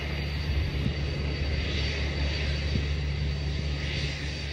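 A plane carrying rebel ministers from Benghazi lands on a mountain road converted into an airstrip, its engine drone steady, loud and continuous with deep rumbling underneath throughout.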